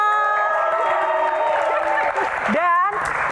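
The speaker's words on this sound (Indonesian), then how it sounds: "tepuk tangan" An Indonesian dangdut show audience applauds and cheers for three divas, a crowd wash under loud sustained voices and sung or whooping tones, with shouts rising near the end.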